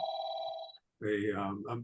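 A telephone rings with a steady electronic trill during a meeting. A short silence follows, then a person starts talking.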